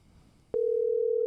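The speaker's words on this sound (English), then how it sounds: "Oh yeah, it's ringing." A phone call's ringing tone comes in partway through, a loud, steady electronic tone that holds without a break after a short stretch of quiet background.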